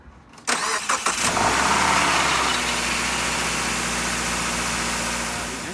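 A Subaru Outback's 2.5-liter horizontally opposed four-cylinder boxer engine cranks and starts with a few sharp turns, then settles into a steady, close idle that hums evenly and fades slightly at the end, with no talk.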